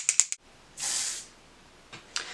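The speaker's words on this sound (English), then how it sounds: "I'm going to spray it straight onto the sponge" Liquid foundation sprayed onto a damp beauty sponge: a short soft hiss of one spray burst, framed by faint clicks of the bottle and handling.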